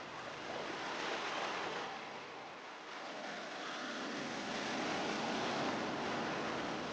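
Small sea waves of the Gulf of Mannar at the tip of the island, a broad steady wash of surf with a slight dip and swell, mixed with some wind.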